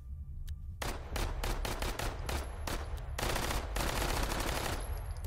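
Rapid bursts of SMG fire in the VR shooter Hotdogs, Horseshoes and Hand Grenades crack out loud and close in several fast strings, each run of shots ending in a short pause before the next.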